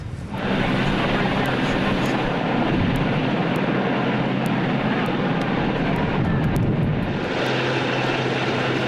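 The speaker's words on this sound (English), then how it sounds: "A search and rescue helicopter arrived and used a long line to bring the man to safety" A loud, steady search and rescue helicopter drone with rotor thrum runs throughout, close by and continuous, with voices faintly mixed underneath.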